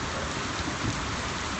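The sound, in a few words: rain with thunder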